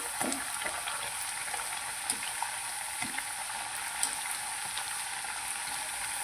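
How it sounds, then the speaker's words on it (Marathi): Sabudana vada, crisp sago patties with crushed peanuts, sizzle steadily in hot oil as they fry golden, a soft continuous crackle with small pops and no voices. "गोल्डन कलरवर तळून घ्यायचे।"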